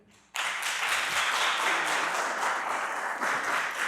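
An audience at a town council meeting in Innisfil breaks into sudden applause that starts sharply and stays steady and dense throughout, close and fairly loud.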